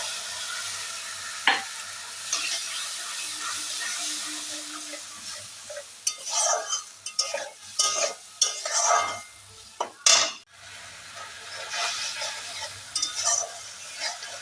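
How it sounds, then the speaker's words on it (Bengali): Mustard and green chili paste with turmeric stirred and fried in a pan: steady soft sizzle under scraping spoon strokes and a few sharp metal clinks against the pan. "এই যে এবার দেবো একটু হলুদ গুঁড়ো, দিয়ে এই যে আমি সর্ষে আর কাঁচা লঙ্কা বাটাটা দিয়ে দেবো।"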